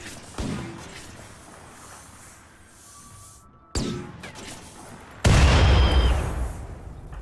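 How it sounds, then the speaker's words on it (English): Doomsday Launcher fired in a video game: three heavy booming blasts, a short one near the start, another midway and a final louder one that rumbles on, with no talking. "I think what I need to do is use the Doomsday Launcher"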